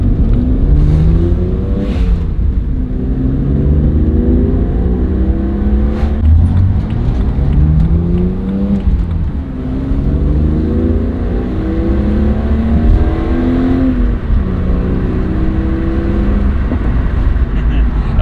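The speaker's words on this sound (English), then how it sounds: "I hope you guys can hear the intake." A BMW E82 135i with the N54 engine and bolt-on upgrades revving repeatedly, loud intake suction and turbo whoosh rising and falling in long sweeps, close and continuous, with occasional talk underneath.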